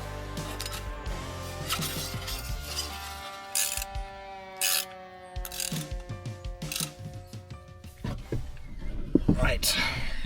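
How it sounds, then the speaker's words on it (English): Bolts being done up on a Suzuki Jimny's Forge Motorsport exhaust, with a ratchet clicking in quick runs of pawl ticks, pauses between strokes and occasional metallic knocks, all close by. "I am next just going to do up these 4 bolts"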